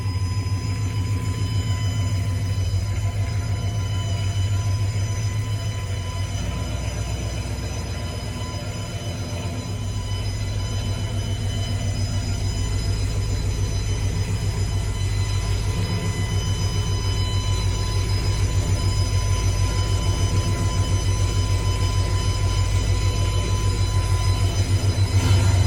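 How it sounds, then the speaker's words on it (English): A steady, loud droning whine from the fuel pump of a Ford Torino with a 351C engine and Sniper EFI, running continuously under low road rumble for the full stretch while the car drives. "That fuel pump's so loud."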